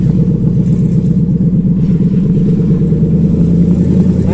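A Texas Speed Shop truck with a Gen 5 engine swap accelerates on its first drive, the engine's steady, loud mid-pitched drone running continuously close by, with no speech.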